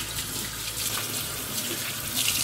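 Tap water runs steadily into a sink while soap is rinsed off hands, a close, continuous gentle splashing hiss with no talk.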